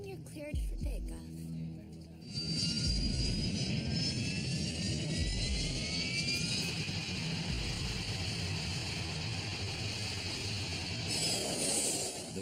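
A Prowler jet aircraft taking off from a runway, its engine roar rising after a short lull and holding loud and steady to the end, with a faint high whine above.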